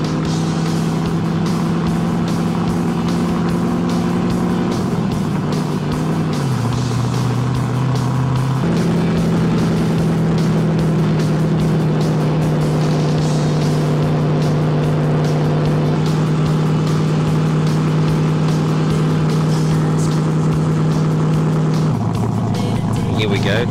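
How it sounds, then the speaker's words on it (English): A loud Holden Torana race car engine with straight exhaust drones steadily with a raw, throaty note, its pitch shifting as it changes gear at Bathurst, while a voice talks over it. "Unbelievable sound coming from the straight exhaust."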